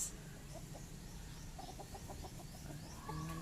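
A chicken clucks on a rural property with fruit trees, a quiet series of short rhythmic clucks in the middle distance against steady outdoor background noise.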